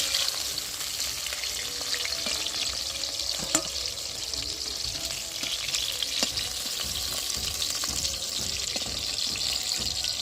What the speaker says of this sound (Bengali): এদিকে আমার পটলগুলো একবারে ভাজা ভাজা হয়ে গেছে, এবার আমি পটলগুলো তুলে নিচ্ছি।